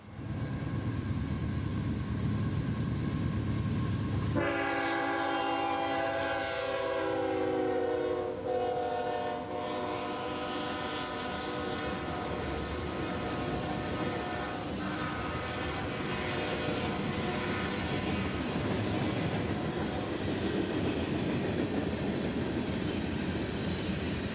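CSX freight train Q220 passes in Folkston, Georgia, with a loud, steady rumble throughout, a strong blaring horn sounding from around five seconds for several seconds, then continuous wheel and car noise as the long consist rolls by.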